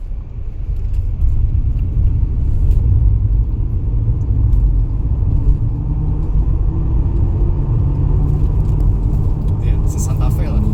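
A Chery Tiggo 8 CSH accelerating at full throttle produces a loud, steady rumble of road and drivetrain noise from inside the cabin, sustained throughout with faint voices mixed in.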